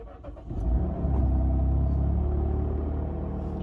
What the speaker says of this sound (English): So let's start the vehicle up for a second.